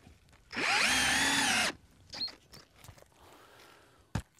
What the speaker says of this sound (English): Up here, we're gonna drill through the shingles, through the flashing into the decking.